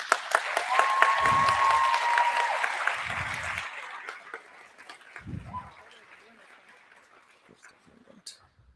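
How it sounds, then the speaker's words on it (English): Applause at the Jackson County Fair coronation, a dense round of clapping from the crowd that swells early and gradually thins out, with a few low thumps and scattered voices underneath. "another round of applause for our Miss Jackson County second attendant, Tamber Shurich"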